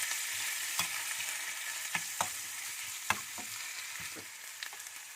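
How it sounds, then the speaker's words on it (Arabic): Chicken sautés in ghee in a pan for a negresco dish. A steady hissing sizzle carries on throughout, broken by a few scattered taps and clinks of a utensil stirring against the pan. "هننزل الاول بالفراخ اول حاجه. نشوحها كده في السمنه اهو."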